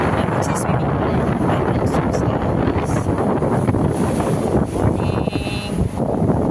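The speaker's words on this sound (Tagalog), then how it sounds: "Mahangin. Windy." Strong wind at Anargyroi Beach near Naoussa on Paros Island, Greece, buffets the microphone in a constant loud rumble, with gusty surges and a faint background of sea and distant voices.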